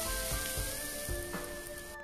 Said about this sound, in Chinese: 再加适量的花椒粉， 然后淋上烧开的热油爆香